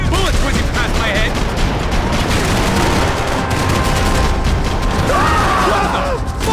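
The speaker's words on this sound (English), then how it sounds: "I can't concentrate with bullets whizzing past my head!" Loud, chaotic Max Payne 3 firefight with constant gunfire, booms and bullets whizzing past, thick and close throughout, with shouting voices mixed into the din.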